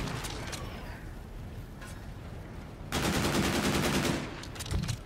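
Rapid automatic gunfire in a shooter video game, with loud dense bursts of fast repeating shots, the heaviest volley in the latter half, under a noisy mix of game sounds and some voice.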